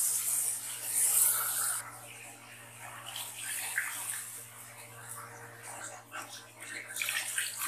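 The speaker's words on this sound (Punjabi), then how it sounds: "ਇਹਦੇ ਵਿੱਚ ਮੈਂ ਹੁਣ 3 ਕੱਪ ਪਾਣੀ ਦੇ ਡਾਲ ਦਿੰਦੀ ਹਾਂ" Water poured steadily from a cup into a pot of frying vegetables for veg pulao, a continuous splashing pour that carries on at moderate loudness throughout.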